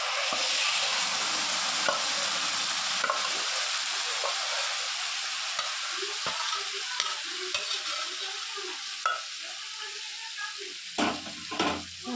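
Marinated chicken chaap drops into hot butter and settles into a loud, bubbling sizzle with clinks and scrapes of stirring toward the end; a quiet voice comes through briefly.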